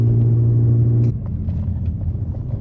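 A Subaru car engine idles with a steady low hum, then the car takes off and the engine note turns into a rougher, louder rumble that holds through the rest of the moment, with no one talking.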